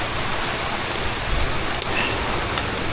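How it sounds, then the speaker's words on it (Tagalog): Steady rain pours down during a typhoon in Infanta, Quezon, a dense continuous hiss of drops, loud and close, with a few brief thuds underneath. "Hi, ulan."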